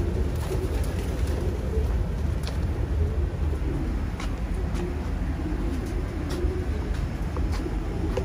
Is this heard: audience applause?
no